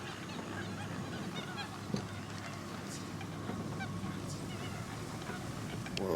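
Geese honk in a loose, steady chorus at Lake Apopka Wildlife Drive, a few calls rising a bit nearer over constant wind and vehicle rumble.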